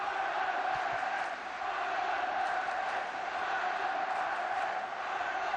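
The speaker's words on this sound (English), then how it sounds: "Augenthaler certainly encouraged the crowd to find its voice" A football crowd in a stadium at an international friendly between the Republic of Ireland and West Germany in 1989 roars continuously, a dense sustained wall of cheering and shouting with a brief dip before swelling again.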